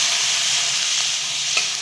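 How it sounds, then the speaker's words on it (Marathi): Hot water poured into a sizzling fried mixture with turmeric in a pan, giving a loud, steady hiss throughout with a brief sharper burst near the end. "मस्त आता गरम पाणी टाकून घ्यायचं"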